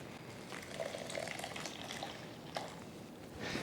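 Boiling water poured onto bulgur for tabbouleh in a home kitchen, a faint, steady liquid gush and trickle with small splashes, close but quiet throughout.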